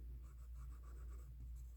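Crayola twistable colored pencil scratching across paper in quick, quiet back-and-forth coloring strokes, close and faint.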